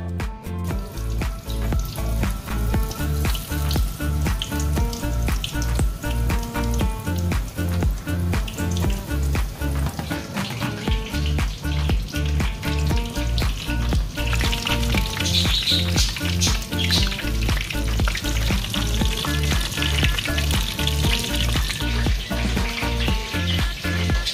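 Marinated eggplant slices and chillies coated in chilli, turmeric, garam masala and household spices sizzle steadily in hot oil in a home kitchen, a dense continuous crackle heard close up and alone, with music playing underneath throughout.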